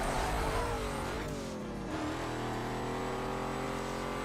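A heavy Plymouth Hemi-Cuda engine in the racing game Need for Speed Carbon roars and revs continuously, with a rising pitch sweep midway as the car accelerates, steady and close throughout.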